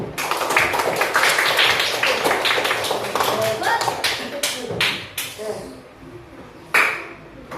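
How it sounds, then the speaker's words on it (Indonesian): A class of young schoolchildren claps hands together in a classroom, a dense burst of fast, overlapping claps that thins out and fades, with a final lone clap near the end. "Tepuk tangan untuk kita semua."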